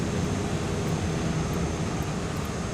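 Steady, loud airplane engine drone during takeoff in a flight simulator game, a continuous broadband roar with a low rumble that holds even throughout, no talking.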